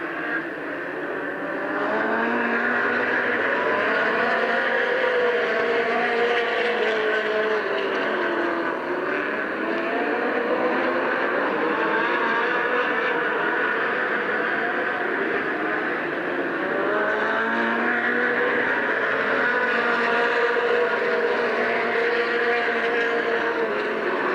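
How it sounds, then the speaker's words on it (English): Stock race cars circling Midvale Speedway at the 1990 Fall Classic, a continuous loud engine roar with rising and falling pitch as cars pass, sustained throughout with no talking. "Romell, Scott Drake, Rich Rohr, Ronnie Sett out there racing on the lead lap."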